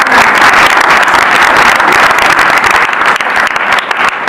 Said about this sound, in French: Applaudissez s'il vous plaît pour le lycée.